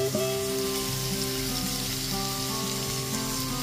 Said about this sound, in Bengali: মশলাটা একটু কষিয়ে নেওয়ার পর এর মধ্যে দিয়ে দিচ্ছি ভেজে রাখা আলুর টুকরোগুলো